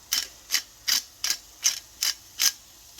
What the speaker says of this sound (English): I will grind some fresh pepper on here